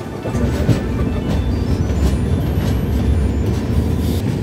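The 12988 Ajmer Sealdah Express runs along the line toward Sealdah, a loud, steady rumble of wheels and carriages heard from on board, with faint high squeals over the continuous roar and no voices.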